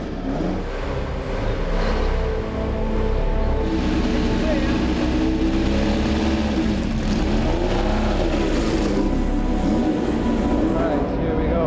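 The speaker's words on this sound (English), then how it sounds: "The engine's actually quite smooth, isn't it, for such an old engine?" The old engine of Jim Clark's Lotus 25 racing car runs smoothly in a steady, even drone with slight swells in pitch, heard under people talking.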